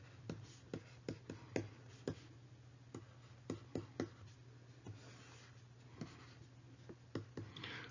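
A pen writes by hand on paper while calculus algebra is worked out, with faint, close, irregular scratches and taps over a quiet electrical hum.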